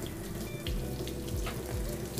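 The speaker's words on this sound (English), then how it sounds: "And just a gentle flow of water." A gentle, steady stream of tap water runs continuously, close by, while bathing a Maltese dog, with soft splashing and no voices.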